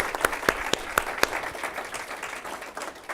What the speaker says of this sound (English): Let's give Mehek a round of applause.